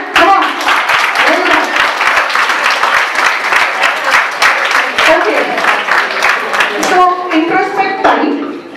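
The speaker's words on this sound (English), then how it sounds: "clap for yourself" Audience clapping at a skill-development talk, rapid dense claps holding steady for several seconds with voices and some chatter underneath, then a speaking voice rising clearly near the end.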